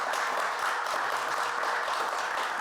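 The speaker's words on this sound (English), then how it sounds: "if we could have one more round of applause" An audience gives a round of applause after a talk, a dense, even wash of many hands clapping that holds steady and fairly loud throughout, with no voices over it.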